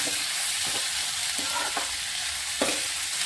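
Sliced onion and brinjal sizzle steadily in a hot pan while a spoon stirs them, giving a continuous close frying hiss broken by several scraping and clacking strokes, with no talking.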